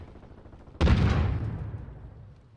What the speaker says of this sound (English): The explosions of vehicles is very entertaining.